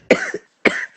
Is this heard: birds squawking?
no